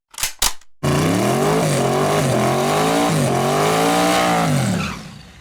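A Corvette ZR1 engine fires up after a couple of sharp starter pops, then holds a loud, close, throaty rev that climbs and dips in pitch for about four seconds before fading out.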